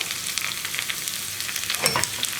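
Onion and ginger sautéing in a pan, a steady close hiss of frying with a brief louder scrape of stirring near the end, no voices.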